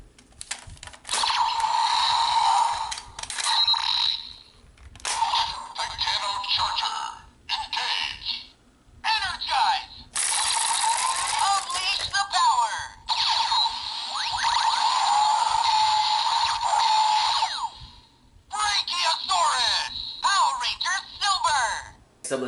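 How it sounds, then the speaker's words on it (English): A Power Rangers Dino Charge Morpher toy plays electronic voice calls and effects after a Titano Charger is inserted, short bursts of tinny sound separated by pauses, close and loud. "let's see what sound it makes in the Dino Charge Morpher"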